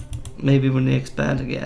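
Computer mouse or keyboard clicking close to a microphone during a PC game session, quick dry clicks running under a man's speech.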